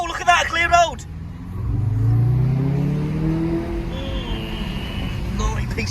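A 400 hp Audi TTS with an aftermarket exhaust revs and pulls on an open road, a steady loud engine drone rising and holding for several seconds after a brief burst of talk inside the car.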